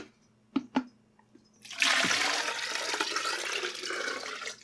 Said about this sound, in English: So I'm going to pour it into this pitcher really quickly and sloppily.